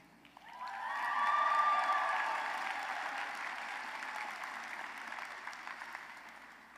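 A commencement audience bursts into applause, swelling quickly to a full, steady clapping from a large crowd, then easing slightly while continuing throughout, heard from some distance in a large hall.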